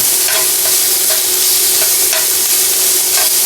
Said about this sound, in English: We're gonna render the fat. This basically means melt the fat out of the bacon.